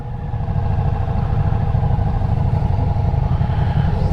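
A Ducati Diavel V4 motorcycle engine runs steadily at a dealership, a loud, close, continuous low throbbing rumble with a faint mechanical clatter and no change in pitch, with no voices.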